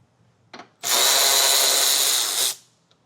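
A power tool spins out a 10mm bolt from the top fascia of a 2016 Jeep during a base plate install, giving one loud, sustained whirring burst of almost two seconds after a brief short rev, close by with no talking.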